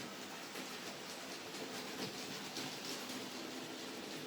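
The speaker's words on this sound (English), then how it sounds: "here comes the most important train with its very important load for today" Continuous rumbling and clattering of a model train running along its track, steady and close.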